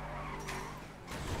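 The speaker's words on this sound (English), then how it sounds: "Now I'm just sitting here trying to drift." In GTA V, a car drifts with a steady engine drone and tire squeal, rising in two louder skidding bursts.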